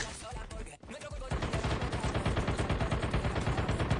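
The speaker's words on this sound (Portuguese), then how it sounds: "Están disparando ahí, muy bien ahí." Rapid automatic gunfire from a Call of Duty Mobile battle royale match crackles in a fast, even stream of shots, starting after a brief quieter moment and continuing steadily at close range.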